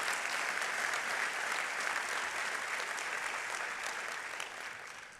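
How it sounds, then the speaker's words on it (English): A graduation commencement audience for a school of continuing studies bursts into sustained applause, a dense wash of clapping that fills the hall and slowly tapers toward the end. "give yourselves a round of applause"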